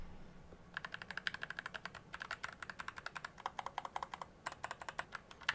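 Rapid, steady typing on a Keychron K11 Max mechanical keyboard, crisp clacky keystrokes in quick succession with a brief pause midway, close up.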